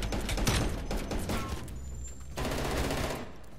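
Gunfire in Call of Duty: Black Ops Cold War comes as loud, dense bursts of rapid automatic shots, pausing briefly before another burst, with no voices heard.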